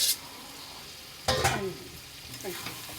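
Shrimp and potatoes frying in a spiced pan for a green chili shrimp dish, with a steady low sizzle, a louder burst of hissing and stirring in the middle, then softer sizzling and scraping at the end.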